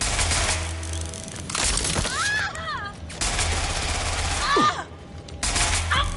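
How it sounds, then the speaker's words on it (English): Gunfire in the video game Watch Dogs Legion, sharp cracks and bursts erupting over a dense game soundscape of music and effects, with swooping tones between the shots; voices speak during the action. "Shots fired!"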